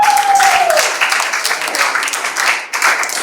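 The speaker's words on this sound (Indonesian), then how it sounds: "Tepuk tangan buat kita semua." Students in a classroom applauding together: a steady burst of close hand clapping that carries on for a few seconds, with a brief tone at the start.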